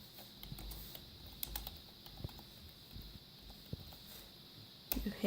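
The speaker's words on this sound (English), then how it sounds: "in here you type in their address" Clicky keystrokes on a computer keyboard as a street address is entered, a quiet, uneven patter of taps with a few sharper hits and a brief louder flurry near the end, with no talking.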